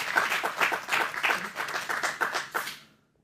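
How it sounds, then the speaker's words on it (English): A conference audience applauds a sponsor in a spinal surgery lecture setting, dense clapping that swells and dips for a few seconds before tapering off and fading into silence at the end. "give them a round of applause for their support of our event"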